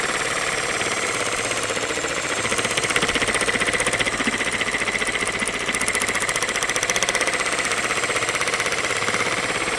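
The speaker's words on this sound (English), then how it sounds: "blade on the Sawzall and don't try to rip through it as fast as possible" A Sawzall reciprocating saw cuts through metal siding at a slow speed, giving a loud, continuous rattling buzz with a rapid regular pulse that lasts the whole time.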